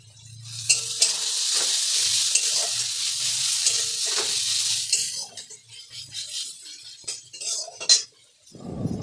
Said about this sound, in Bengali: সমস্ত পেঁয়াজগুলো কিন্তু আমি এর মধ্যে দিয়ে দিয়েছি এবার এটাকে ভালো করে আমি ভেজে নেবো